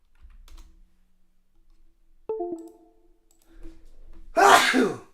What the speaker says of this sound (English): Oh, I feel like I'm going to sneeze now.